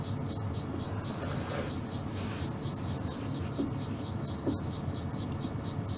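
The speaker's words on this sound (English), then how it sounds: "The cicadas seem to be in full cry now." Cicadas call in the midday heat on an African safari, a loud pulsing buzz beating in rapid regular bursts over a low background hum.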